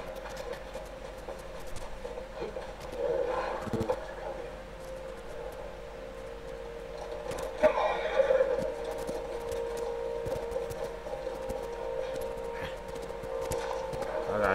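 A horse whinnies and snorts amid a busy Ghost of Tsushima game soundscape, with hoof clops and a voice talking over it.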